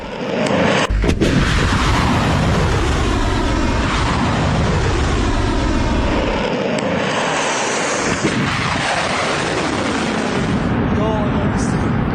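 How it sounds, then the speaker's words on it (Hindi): Iranian ballistic missile launches and explosions, with a loud rumbling roar and booming blasts over about twelve seconds, a sharp bang near the start, and a voice talking over parts of it. "ईरान अब भी बैलिस्टिक मिसाइलें दाग रहा है।"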